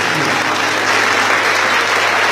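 A church congregation claps together during an evangelical worship service, a dense, steady wash of applause that stays loud and even from start to finish, with no voices standing out.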